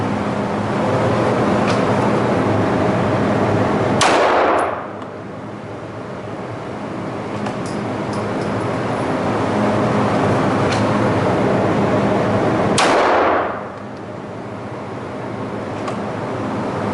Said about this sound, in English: this range, you can shoot rifle, handgun, rifle, shotgun with slugs